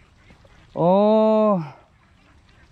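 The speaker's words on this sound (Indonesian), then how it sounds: "Loh, niki bebek." A single loud, nasal duck quack lasting under a second, close by on a rural roadside during a bike ride, with a brief spoken exclamation and quiet background otherwise.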